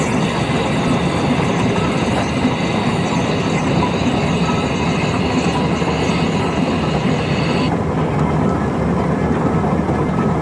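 Steam traction engines rumble past at a steam rally with a continuous, loud, close churning of engine and wheels, and a high steady whine partway through that then drops away.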